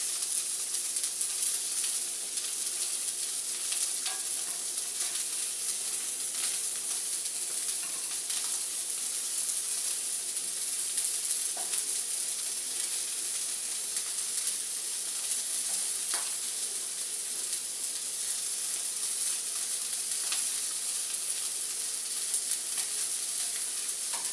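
Jalapeno slices fry on a hot griddle for a burger, giving a steady, dense crackling sizzle throughout with occasional sharper pops and no voices.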